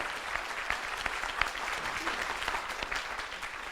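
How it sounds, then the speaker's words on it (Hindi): Audience applause at a Hindi motivational talk, a steady dense patter of clapping with a few sharper claps standing out, moderately distant and sustained throughout. "उनके लिए एक बार ताली बजना चाहिए"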